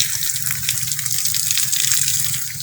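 Water sprays from a shower head onto vegetable plants in a garden, a steady hissing gush that runs unbroken and fairly close throughout.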